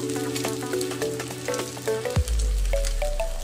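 Four beaten eggs are poured into a hot pan for egg podimas. Bubbling sizzle and crackle start over a faint, steady hiss of frying, then a sudden burst of loud sizzling takes over, close and continuous.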